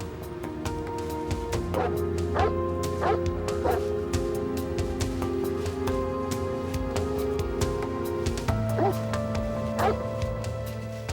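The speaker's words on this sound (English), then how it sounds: "a tracking dog was dispatched to pick up the scent." Tracking dog on a police search in the woods, giving several short barks and yips spread across the stretch over a steady low hum and background noise, with faint indistinct voices.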